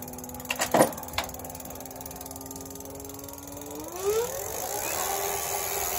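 An Arduino-controlled electric bike motor hums at a steady whine, then rises in pitch as it is pushed to full throttle. A few sharp clicks come near the start, and there is no talking.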